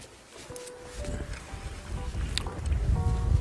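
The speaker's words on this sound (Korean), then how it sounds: "오 바람 많이 분다" Strong wind buffets a small fishing boat out after cuttlefish, a gusty roar that swells steadily louder over low rumbling water and hull noise, with faint thin tones drifting through.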